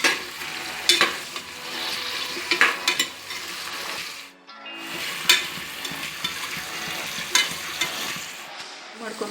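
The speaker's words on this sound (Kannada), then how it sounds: "ಬದನೆಕಾಯಿನ ಹಾಕ್ತಾಯಿದ್ದೀನಿ. ಇದು ಚೆನ್ನಾಗಿ ಫ್ರೈ ಮಾಡಿ ಎಣ್ಣೆ ಬಿಡುತ್ತೆ" Brinjal pieces frying in oil for a tomato masala vangibath, a steady sizzle with repeated scrapes and clinks of a spoon stirring the pan, a brief dip in the middle, with no talking.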